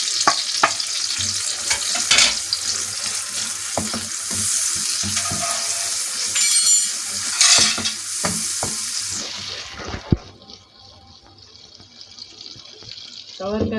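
Mutton bhuna gosht sizzles and crackles in a pan as dry spices go in and get stirred, with a loud hiss that drops away near the end. Someone speaks over the frying.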